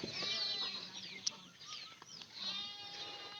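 Several chickens cluck and chirp close by, a busy overlapping chorus of short calls with a few sharper squawks, no talking.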